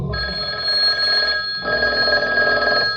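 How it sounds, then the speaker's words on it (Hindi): A telephone bell rings loudly and continuously, a bright metallic trill with a brief break before ringing resumes. "किसको फोन लगा रहे हो भाई? दीपक को।"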